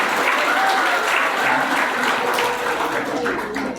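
An audience breaks into loud, continuous applause that holds steady for the whole stretch, a dense wash of many hands clapping together with faint voices mixed into it.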